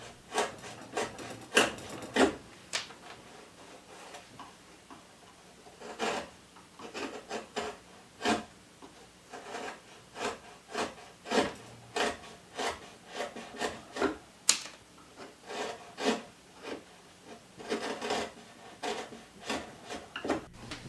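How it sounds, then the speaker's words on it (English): A carving knife trims excess wood from a thin strip for a pontoon hull, a series of rhythmic scraping, rasping strokes up close, repeated steadily with short pauses between cuts. "Trimming the excess wood from the strip with my carving knife."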